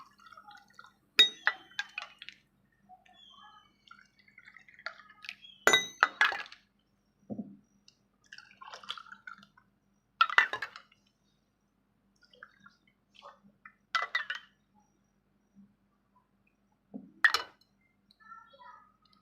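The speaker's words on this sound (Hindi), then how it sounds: "अब इसके अंदर हम शरबत ऐड करेंगे।" Peach syrup poured into a glass packed with ice, heard as scattered, fairly close clinks and light splashy drips spread across the pour, separated by quiet gaps.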